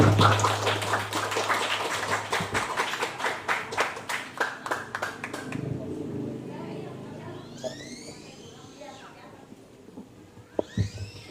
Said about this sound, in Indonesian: Tepuk tangan sekali lagi buat Kang Haji Ivan Kuntara.